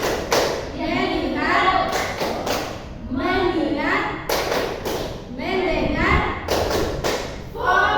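Children in an Indonesian classroom perform the 'tepuk fokus' clapping game, sharp rhythmic claps in repeated groups punctuating their chanted words, with kids' voices speaking throughout.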